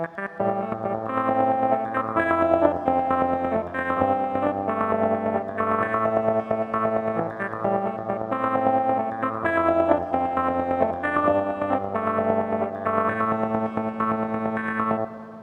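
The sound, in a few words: lo-fi keyboard effect modulated by accompaniment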